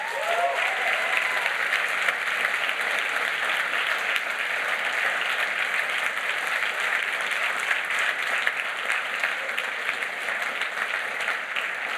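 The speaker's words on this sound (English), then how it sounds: "we can give them a round of applause" An audience at a tech conference applauds the event support team, steady dense clapping from a large crowd sustained evenly for the full length, with no speech over it.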